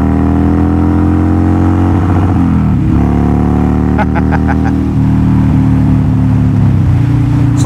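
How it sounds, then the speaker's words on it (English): Motorcycle engine held against the rev limiter, a loud steady droning roar with stuttering cutout pulses partway through, close up and continuous with no talk over it. "Rev limiter."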